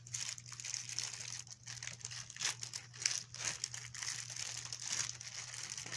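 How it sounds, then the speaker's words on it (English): A plastic bag crinkles and crackles in bursts as color-changing slime is pulled out of it, the rustling fairly close and uneven with no talking over it. "We can take this out of the bag."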